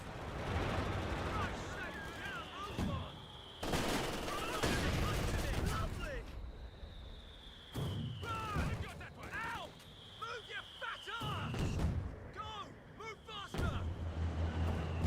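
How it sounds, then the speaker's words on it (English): Mortar blasts and gunfire rumble almost continuously on a battlefield in the video game Company of Heroes 2, with heavy booming impacts and rattling shots. Voiced soldier lines and chatter come through over the combat. "Fucking hell, it's mortar, mate."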